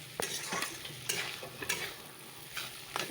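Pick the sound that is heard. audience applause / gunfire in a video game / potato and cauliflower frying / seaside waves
potato and cauliflower frying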